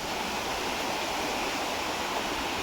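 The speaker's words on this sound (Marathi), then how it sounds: "मी आता आलो आहे ओढ्यात" Water flowing in a shallow stream beside rural farm fields gives a steady, close, rushing wash that stays constant throughout with no other sounds.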